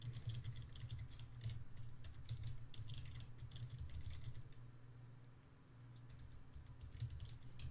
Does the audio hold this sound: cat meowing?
no